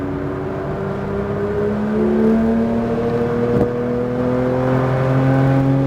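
Porsche GT3 engine on a race track pulling hard through turns, a loud, sustained in-car drone whose pitch climbs steadily as it accelerates, with a brief sharp knock midway.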